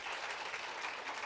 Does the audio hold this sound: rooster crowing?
no